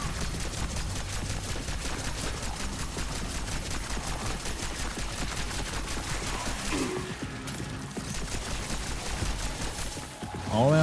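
Sustained blind gunfire in the horror video game Cronos, a dense, steady rattle of rapid shots filling the whole stretch, with a brief lull near the end.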